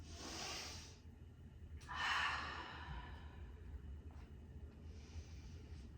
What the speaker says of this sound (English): we'll take a few deep breaths here